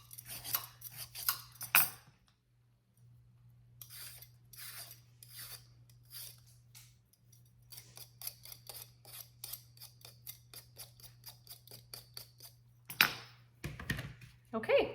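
Potatoes being peeled by hand in a home kitchen, a rapid series of short scraping strokes in bursts, close and moderately loud, over a steady low hum.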